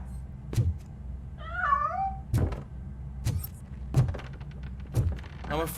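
A cat meows once in the RoboCop video game, a short, wavering mew. Heavy, evenly spaced mechanical footstep thuds surround it, and a brief scuffle of noise comes at the end.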